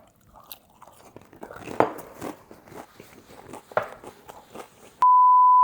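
Crunchy bites and chewing into a fried Ilocos empanada with a spring roll wrapper and green papaya filling, a few close, crisp cracks with softer chewing between them, then a sudden steady beep tone at the end.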